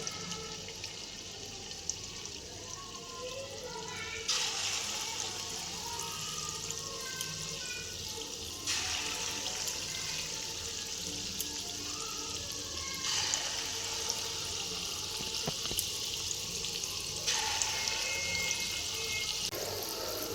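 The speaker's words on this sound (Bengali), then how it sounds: "এবার এই তেলে ছাড়ছি আমি, সাদা তেল এটা।" Chhana kheer bora dumplings fry in white oil with a continuous hissing sizzle that swells and eases in long stretches, steady and close, with no voices.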